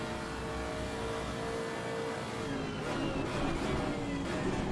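A Honda NSX race car in Assetto Corsa Competizione: a steady engine roar at moderate level with quick throttle changes near the end while the car slows, no talk.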